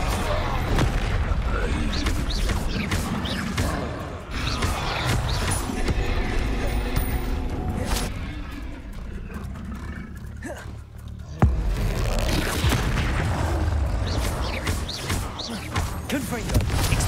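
Repeated fiery spell blasts from Confringo in Hogwarts Legacy, booming roars and crackling bursts rolling one after another through a loud, dense battle with other spell sounds layered in.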